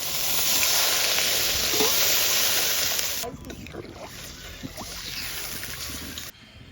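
Water poured into a pan of hot, reddened spice masala for a Bengali pabda fish curry, a loud broad hiss and sizzle for about three seconds, then settling into a softer bubbling crackle.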